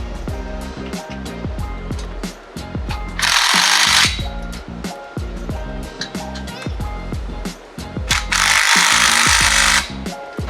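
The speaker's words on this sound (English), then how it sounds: "grab the 13mm and tighten it down" A 13mm ratchet tightens an exhaust clamp on a 2021-or-newer Ford F-150 during a catback exhaust install, giving a steady run of close, rapid clicks with two louder hissing bursts of noise.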